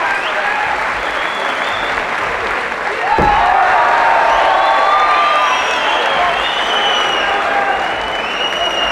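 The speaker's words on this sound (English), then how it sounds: "Let's have a round of applause for both warriors." Fight crowd applauding and cheering after a round, a dense wash of clapping that swells partway through and stays loud, with whoops mixed in and a voice talking over it.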